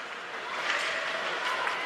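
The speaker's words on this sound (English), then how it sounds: "Big applause from the Melbourne fans every time this puck gets cleared away" Melbourne fans applaud at an Australian women's ice hockey semi-final against Adelaide. The clapping is a dense, steady wash of crowd noise that swells slightly midway.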